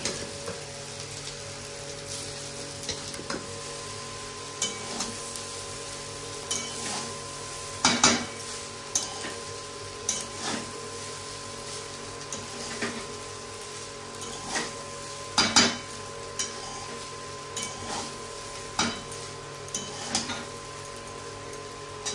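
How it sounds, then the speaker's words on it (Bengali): Rice being added to a large kadai and stirred, with repeated scraping clinks of a metal spoon against the pan and a faint sizzle underneath, sharper knocks around the middle and later on. "এখন এর মধ্যে আমি দিয়ে দিচ্ছি রাইসটা"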